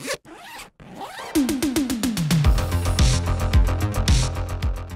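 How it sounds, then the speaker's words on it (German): A jacket zipper is pulled in quick, close ratcheting strokes, loud and alone, after a couple of brief rustles. "Jeder weiß, wie ein Reißverschluss bei der Jacke funktioniert"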